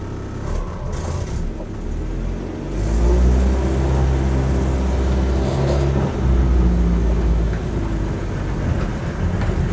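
A Land Rover Series III 88 hardtop with the choke on pulls away, its engine note rising into a loud, steady low rumble with a brief dip around mid-clip, close up and without talk.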